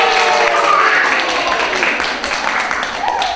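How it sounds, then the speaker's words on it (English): An audience at a library magic show claps and cheers "yay" loudly together, a steady wash of applause and shouting voices filling the whole stretch. "I want you guys to clap and go yay nice and loud for yourselves"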